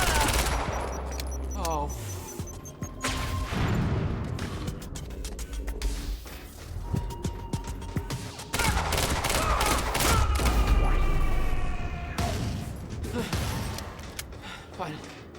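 Shotgun blasts and rapid gunfire in the video game Quantum Break, loud and repeated in dense bursts with mechanical clanks between, a brief spoken exclamation over the shooting.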